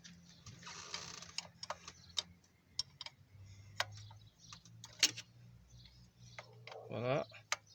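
Close, crisp metallic ticks and clinks come at irregular intervals as a 17 mm wrench works on an injector rail fitting of a Hyundai/Kia 1.6 CRDI engine, with low voices talking underneath.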